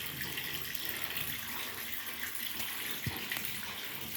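Water rushes steadily in a continuous, even stream as a twin tub washing machine drains soapy water, with no voices over it.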